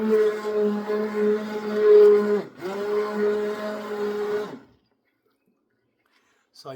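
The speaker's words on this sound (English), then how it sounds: "So I'm using an immersion blender to do the soup." An immersion blender blending asparagus soup whirs with a steady, tonal motor hum for several seconds, dips briefly, resumes, then cuts off into silence.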